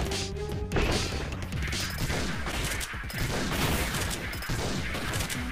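Point-blank gunshots crack in the video game Iconoclast, a dense, loud barrage of overlapping blasts and crashing impacts that goes on without a break.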